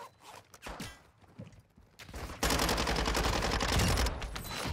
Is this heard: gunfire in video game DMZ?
yes